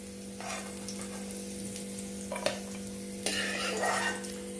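Raisins and cashews frying golden brown in hot fat, a soft continuous sizzle with a couple of bursts of louder crackle and a clink of a stirring spoon, fairly quiet and close.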